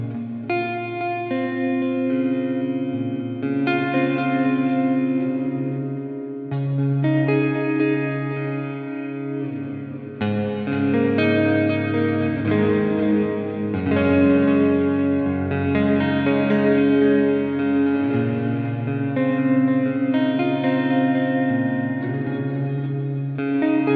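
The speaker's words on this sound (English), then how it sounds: "The next mode number 7, is the delay again with a plate reverb." Boss RV-3 digital delay and reverb pedal in delay with plate reverb mode, washing a sustained guitar part into dense, shimmering echoes and long smeared tails, loud and continuous with no talking.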